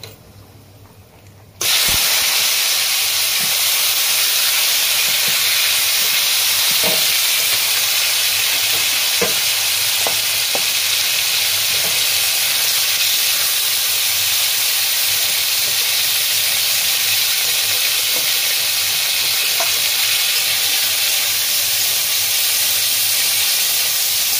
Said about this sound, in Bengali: প্রথমেই মাংসটা আমি ফ্রাই করে নেব